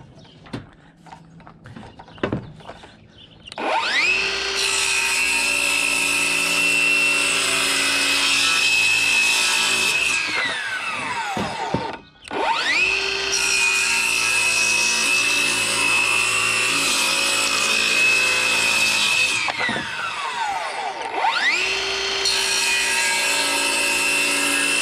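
A power saw cuts through a split wooden tongue and groove board for playhouse siding, three long loud passes of steady buzzing with brief pauses between cuts.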